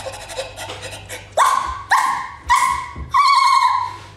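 A person mimics a dog with a run of four or five loud, yappy barks in steady succession, close to the microphone, after a quieter stretch of softer whimpering sounds.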